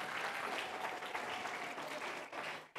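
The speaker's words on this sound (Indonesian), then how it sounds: "Boleh tepuk tangan sekali lagi Bapak Ibu?" A graduation audience of parents applauds continuously, a dense, even roar of many hands clapping in a hall that cuts off abruptly at the end.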